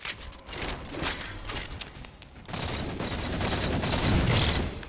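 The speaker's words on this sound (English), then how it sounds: "It's not the saw, it's an assault rifle." Assault rifle fire from a video game rattles in dense, overlapping bursts, a continuous fusillade that swells louder toward the end with no voices over it.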